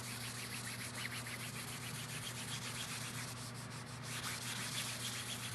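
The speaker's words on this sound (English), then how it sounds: "So I just put a little bit of wax on this, okay? And then buff it off." Wax is buffed onto a canvas surface by hand, making a steady, soft rubbing hiss with a faint rhythmic back-and-forth texture, close and continuous over a low electrical hum.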